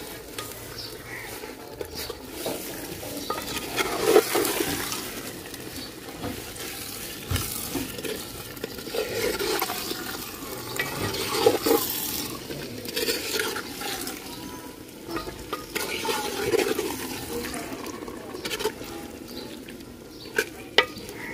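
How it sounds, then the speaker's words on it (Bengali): Handi chicken being stirred in a cooking pot, with a ladle scraping and turning the frying meat, soft sizzling underneath and irregular louder clanks against the pot, close by, with no talking. "এবার নাড়াচাড়ার পালা"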